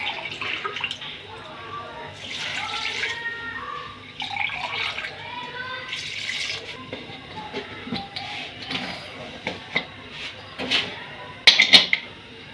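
Water is poured into a karahi pot of beef with salt and turmeric, giving a close, splashing, gurgling pour in uneven bursts and drips, with some clinking near the end.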